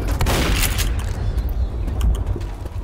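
Bomb explosion in the video game Left 4 Dead: a loud, heavy rumbling blast with dense crackling debris that rolls on continuously for about three seconds, close and dominant with no talk.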